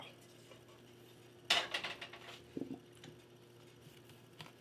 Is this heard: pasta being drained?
yes